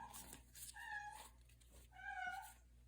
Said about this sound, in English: Sorry guys, that's my cat.